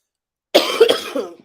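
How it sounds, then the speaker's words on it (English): A single harsh cough bursts out after silence, followed by a few rougher throaty hacks, close and fairly loud. "I can't get rid of the cough."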